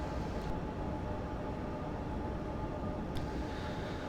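A commuter train in Train Simulator 2015 rolls steadily with a constant rumble and hiss as it brakes into the platform, with faint clicks over the even noise.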